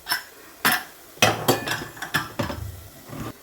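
Metal clanks and clinks as a pressure cooker of boiled chickpeas is opened, with a sharp knock, then a cluster of rattling lid and pot sounds close by.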